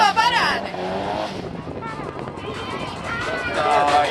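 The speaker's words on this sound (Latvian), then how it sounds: "Ar numuru 16 startē Raivo Trippe ar Nissan" A Nissan drift car launches its run at a Latvian drift series event, the engine revving and tires squealing as it pulls away, loud and close, with a commentator talking over it.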